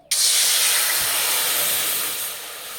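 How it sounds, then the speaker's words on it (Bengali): Water splashes into a hot wok and instantly erupts into a loud, bright steam hiss that holds steady and then slowly eases off over a few seconds. "কড়াইয়ে জল দিয়ে দেব।"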